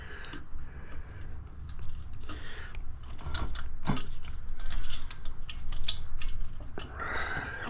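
A diesel heater's fuel line is being cut close by. There are irregular creaking, crunching squeezes and a few sharp clicks from the cutting tool, with no talk.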